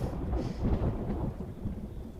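Deep rolling thunder rumbles over steady heavy rain, loud and continuous, with no voices present.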